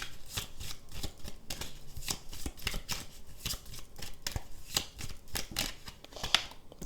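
Lenormand cards being shuffled and laid out for a love reading, a steady run of crisp riffling flicks and soft slaps repeating close up for several seconds with no talking.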